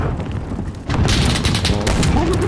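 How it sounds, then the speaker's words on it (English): Gunfire in the video game Call of Duty Warzone bursts in suddenly after a quieter start and becomes a dense, loud volley of shots and booms over other game sounds. "Hostile fire, pendejo! Receiving hostile fire!"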